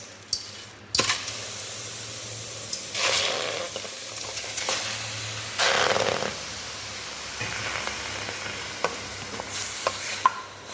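Dumba mutton pieces frying in their own rendered fat in a kadhai on a stove, a close, steady sizzle swelling in several hissing bursts as the meat is turned and stirred, with occasional clicks and no voices.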